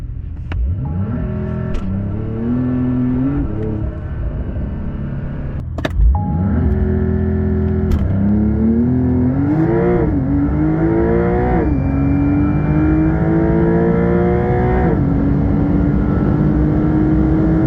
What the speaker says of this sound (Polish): Pora więc sprawdzić przyspieszenie Dakara.